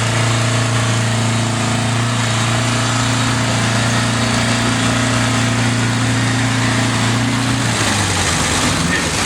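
A two-stroke Detroit Diesel engine runs loud and steady at an outdoor summer show in Prairie Village, Madison, South Dakota, a continuous droning roar that shifts pitch slightly near the end.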